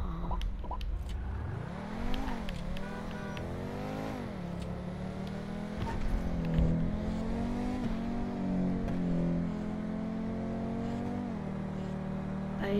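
A car speeding up on the road, its engine droning steadily and rising and falling in pitch as it revs through gears, close and continuous for the whole stretch.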